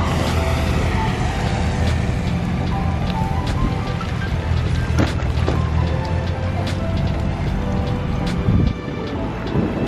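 Vehicles, including a bus, board a ferry and cross, filling the scene with a constant loud broadband rumble of engines and rushing water, with scattered clanks and knocks over the steady roar.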